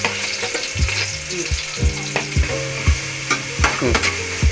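Onion frying with green chili and garlic-ginger paste, a steady loud sizzle with regular rhythmic stirring and scraping strokes in the pan, close up and without voices.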